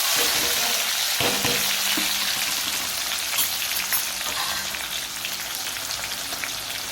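Green chillies and onion frying in a pan, a dense, steady sizzle heard close up with a few faint clanks, continuous throughout.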